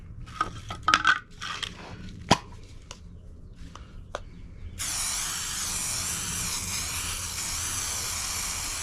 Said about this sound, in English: I will usually spray both sides.